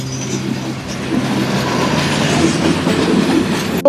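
A meter gauge train runs along a railway line in Bangladesh, a steady rumbling roll with a low droning hum that holds close and loud for several seconds, and no talking.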